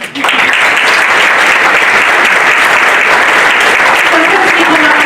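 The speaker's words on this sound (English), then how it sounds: "I want to give a round of applause to the consultants who have done twice the work" Library conference audience giving loud, sustained applause that fills the room evenly from start to end.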